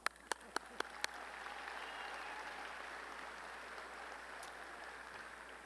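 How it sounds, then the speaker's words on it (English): Sustained applause from a university College of Education commencement crowd, steady and broad after a few sharp isolated claps at the start, filling the hall without speech. "A round of applause."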